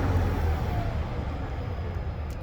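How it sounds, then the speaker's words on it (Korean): A car engine fitted with an engine-tuning upgrade settles into a steady, low idling rumble once the accelerator pedal is let go, fairly close and alone, with no talk. "그리고 악셀 페달 놔보소"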